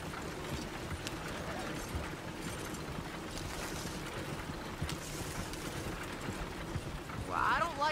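A horse's hooves clip-clop along a road in Red Dead Redemption 2, with a steady, fairly close trotting rhythm over a busy background and a brief brighter sound near the end.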